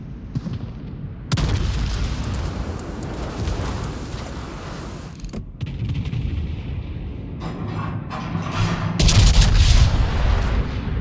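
Naval gunfire and shell explosions in World of Warships, heavy booming salvos and sustained rumbling blasts that surge in loudness in several waves, dense and loud throughout, no speech over them.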